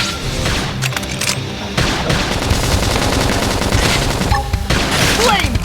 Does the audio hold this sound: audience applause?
no